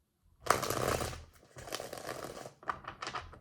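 A few bursts of crisp tarot card shuffling, riffling in quick rattling runs with brief pauses between, close and fairly quiet.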